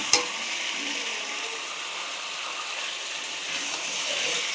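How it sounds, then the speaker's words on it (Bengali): Eggs and potatoes sautéing in a pan give a constant, close sizzle with light stirring noise, starting with a small clink and holding steady to the end, with no talking. "ডিম আর আলুটা দিয়ে ভালো করে কষিয়ে নিচ্ছি"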